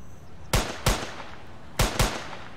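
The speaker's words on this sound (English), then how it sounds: "since we have the ability to shoot a rifle" Four sharp rifle shots crack out in two quick pairs in an Unreal Engine 4 first-person shooter, each a loud, clean burst with a short decay over a quiet background.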